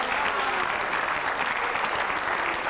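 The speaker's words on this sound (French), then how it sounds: "Bien, on les applaudit aussi." A studio audience on a French television game show breaks into dense, even applause that stays loud and unbroken for a few seconds.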